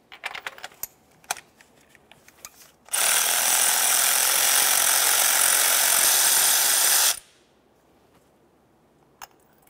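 A spark plug socket on a tool works a spark plug loose from a 2004-2006 Scion xB engine, producing one loud, dense burst of mechanical rattling that lasts about four seconds. Quieter clicks and handling noises come before and after it.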